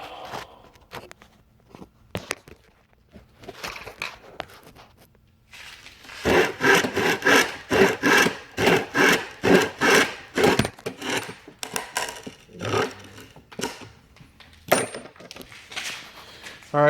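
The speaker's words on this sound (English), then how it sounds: "You want to kind of try and be careful not to get a jagged edge on the underside when you finish cutting." A handsaw cuts through a wooden pallet board with a rhythmic run of rasping back-and-forth strokes, close and fairly loud, after a few quieter handling sounds at the start.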